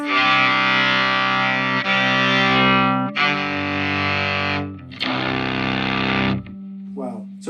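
Electric guitar played through a Fuzz Face fuzz pedal at full gain gives a harsh, thick, saturated distortion: several loud sustained chords ring out and are cut off in turn, with a short pause and a brief lighter passage at the end.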